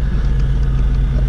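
Wrecked Ford Mustang rolling in reverse, a loud close low engine rumble with a steady throbbing idle, brief and without voices.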